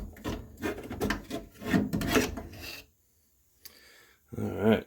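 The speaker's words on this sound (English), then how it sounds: "I scraped off all the old red gasket seal on there" Old red gasket seal scraped off a furnace draft inducer motor housing with a razor blade, giving close rough rasping strokes in bursts for about three seconds, then a pause and a short final scrape.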